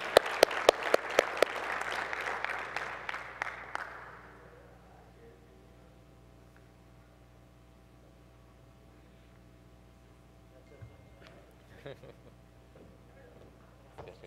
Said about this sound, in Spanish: un aplauso, por favor, para el participante de la Universidad Autónoma de Yucatán